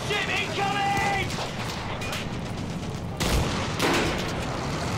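Small arms gunfire in the First World War shooter Battlefield 1, dense bursts of shots and mechanical clatter over a rumbling battlefield, with a sharp loud burst partway through.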